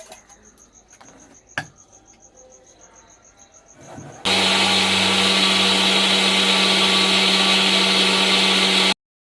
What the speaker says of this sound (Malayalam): എൻ്റെ മിക്സിൻ്റെ ഒച്ച ഭയങ്കര എക്സ്ട്രീം ലെവലാണ്